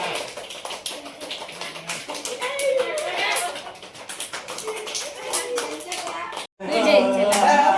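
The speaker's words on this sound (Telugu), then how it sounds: "ఒక్కసారి చేతులు లేపి చప్పట్లు చప్పట్లు" A group of children at a hostel claps hands in bursts, uneven and fairly close, with voices calling out and talking over the clapping, ending in a brief pause before the clapping resumes.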